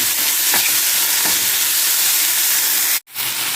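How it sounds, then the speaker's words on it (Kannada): A tomato mixture sizzles loudly in a hot frying pan while it is stirred, a constant frying hiss with faint scraping strokes that cuts out briefly near the end; it is being cooked as masala for banana-leaf fish fry. "ಟೊಮೆಟೊ ಸ್ಮೂತ್ ಆಗುವವರೆಗೆ ಮಿಕ್ಸ್ ಮಾಡಿಕೊಳ್ಳಬೇಕು"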